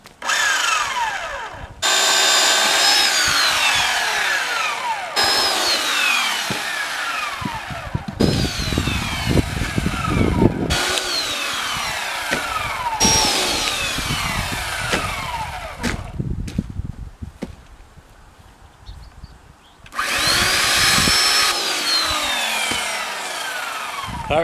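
A Husqvarna 120i chainsaw cuts up firewood logs, its loud buzzing drone rising and falling in repeated cutting passes with brief idle dips between them, close by and without any talk.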